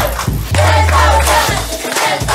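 A television studio crowd shouts together in loud, chanting bursts during a Filipino game show, with rhythmic cheering and claps close by.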